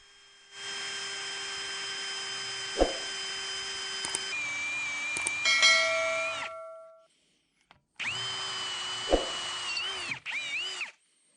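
A drill bit bores out a 3/8 inch oil passage plug in the saddle of a K&T machine, running in two steady whining stretches with a pause between, speed shifting partway through and a couple of sharp knocks.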